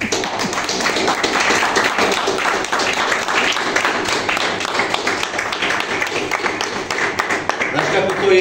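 Lecture audience in Palić, Subotica clapping steadily and loudly throughout, a dense continuous patter of many hands with some voices mixed in.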